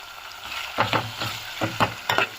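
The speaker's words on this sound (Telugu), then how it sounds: "పచ్చివాసన పోయేంత వరకు బాగా వేగనిద్దాము" Ginger garlic paste frying in a pan with softened potato and tomato, a steady sizzle broken by repeated rhythmic stirring scrapes, close and clear with no talk.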